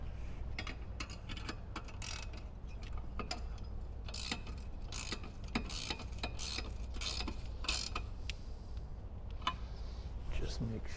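A ratchet wrench tightens a bolt on a heavy-duty front light mount for a Jeep Wrangler JK, giving quick, irregular bursts of clicking as the handle swings back and forth, with someone talking quietly under it.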